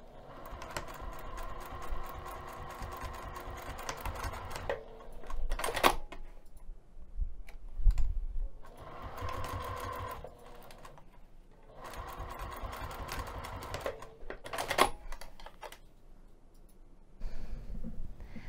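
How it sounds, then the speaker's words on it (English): A sewing machine stitches a fabric strap 1/4 inch from a pressed edge, running in several close bursts of rapid mechanical chatter separated by pauses and handling clicks. "Okay, so I'm going to take this over to the sewing machine."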